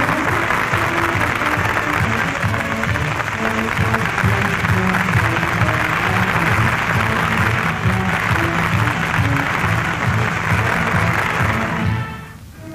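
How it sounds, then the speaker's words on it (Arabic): A large crowd in Cairo applauds and cheers for arriving African kings and heads of state at the 1964 summit, a dense, steady wall of clapping that holds loud throughout before fading abruptly at the end. "وكانت الجماهير تحيي رؤساء وملوك إفريقيا مرحبة بهم"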